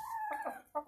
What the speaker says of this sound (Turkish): Her çeşit cinsiz tavuğumuz var